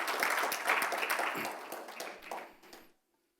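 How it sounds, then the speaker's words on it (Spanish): A church congregation applauds for the Lord during a Spanish-language Sunday service, a loud, dense burst of clapping that gradually thins and fades out after about three seconds. "Dale un aplauso al Señor para alegrarme un poco."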